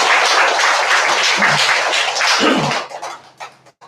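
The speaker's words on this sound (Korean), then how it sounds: "준비하시느라 고생하신 모든 식구님들께 큰 감사의 박수 한번 부탁드립니다." A church congregation at a Korean Day of All Things worship service claps in thanks to the members who prepared the offering table: full, dense applause that holds for a few seconds, then quickly tapers to scattered claps and quiet.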